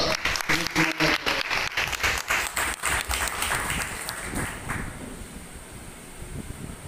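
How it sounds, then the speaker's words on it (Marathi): Audience applause at a poetry gathering, a burst of dense clapping that fades over several seconds into quieter, scattered claps and room noise. "एकदा जोरदार टाळ्या घालतात."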